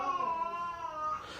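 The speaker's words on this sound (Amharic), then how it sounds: "ልጁም እያለቀሰ ነው።" A child wails in one drawn-out, high-pitched cry that wavers and trails off, close by and fairly loud.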